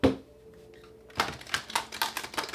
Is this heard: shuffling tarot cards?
yes